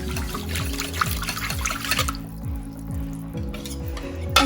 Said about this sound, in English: Then you wanna whisk it in until it's fully mixed in.